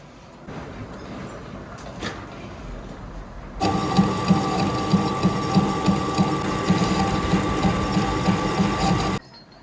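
A grinder works the inside of an axle bush for a custom solid axle on a Mahindra Scorpio, starting quietly and then switching to a loud, steady mechanical whir with rhythmic pulsing that cuts off abruptly near the end.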